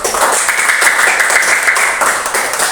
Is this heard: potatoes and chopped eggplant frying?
no